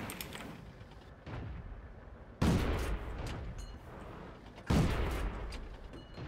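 Heavy shots boom from a 4.7 cm gun on a Pz Kpfw S35 739 (F) tank in a tank video game, two loud blasts a couple of seconds apart over a low, rumbling engine bed.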